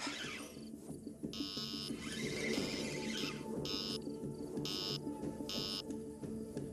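A series of electronic beeps in short bursts, repeated at uneven intervals over steady outdoor background noise, fairly close.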